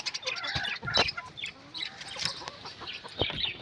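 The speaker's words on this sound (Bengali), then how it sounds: "এই যে আমাদের মুরগিগুলো" Several chickens cluck and chatter close by in a busy, overlapping flurry of short calls, with no talking.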